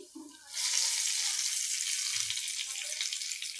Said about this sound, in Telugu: ఈ ఉల్లిపాయలు వేపిన ఆయిల్లోనే ఇక గుడ్లు వేసి